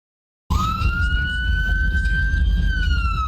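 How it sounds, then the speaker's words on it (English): An ambulance siren starts abruptly and holds a loud, sustained wailing tone over a low rumble of traffic, close by with no talking. "There's an ambulance."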